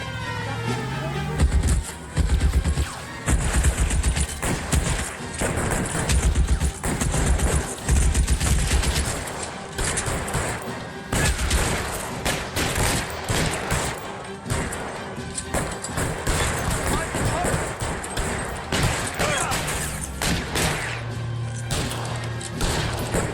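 Sustained firing squad gunfire volley in the video game L.A. Noire, loud, dense shots and crashing impacts continuing nearly unbroken, with a low rumble underneath.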